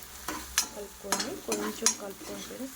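Veg manchurian being stirred with soy sauce and sugar, a soft sizzle under several quiet scraping and clinking strokes of a spoon against the pan, close and faint.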